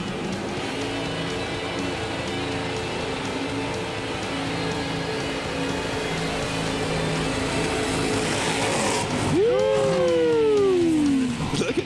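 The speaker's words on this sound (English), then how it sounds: "What do we say, Mason, on Pastime about the burnouts? They got to be good" A 1970 Chevy Nova doing a burnout at a drag strip, a loud sustained engine roar with tire noise throughout, rising to a sharp sweeping tone near the end, with no talk.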